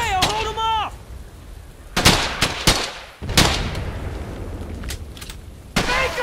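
Loud bursts of gunfire and booming shots in Brothers in Arms: Hell's Highway, sharp cracks scattered irregularly with echoing tails, mixed with a shouting voice and a short whistling tone at the start.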